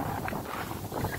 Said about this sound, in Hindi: ऊपर तो काफी ज्यादा हवा चल रहा है